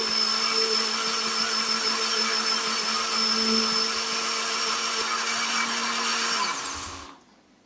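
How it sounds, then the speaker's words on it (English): A countertop blender whirs loud and steady as it purees orange, banana and kefir into a smoothie, holding an even roar for about seven seconds before powering down. "In with the blender."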